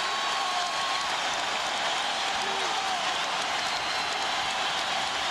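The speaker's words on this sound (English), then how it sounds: "Crowd on its feet." A crowd stands and cheers in a packed arena during a 2004 NBA playoff game between the Lakers and Rockets, a dense, sustained roar that fills the space.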